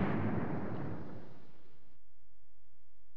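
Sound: bomb detonating in Commandos 2 video game

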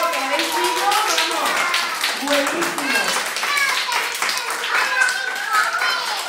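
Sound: children applauding loudly

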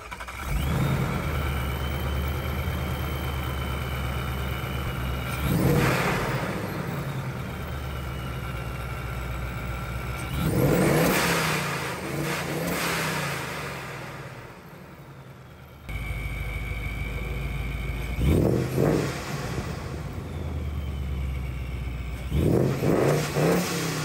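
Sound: supercharger whistle and blow off valve

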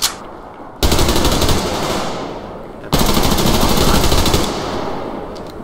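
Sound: shotgun fire in video game Survarium

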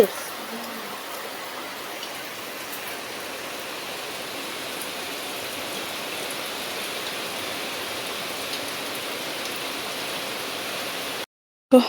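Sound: heavy rain

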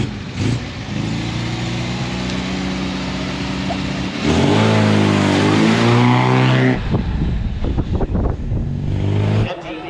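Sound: 2013 Ford Fiesta ST race car sprinting

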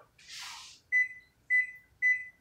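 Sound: one-minute kitchen timer beeping

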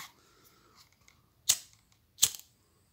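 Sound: lighter flame melting the end of leather-stitching thread

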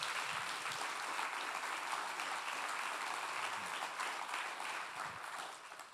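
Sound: audience applause

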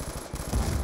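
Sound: light machine gun fire in video game Call of Duty: Black Ops 2

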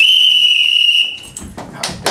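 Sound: whistle blown to start a timed race

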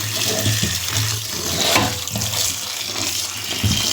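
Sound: running tap water washing vegetables

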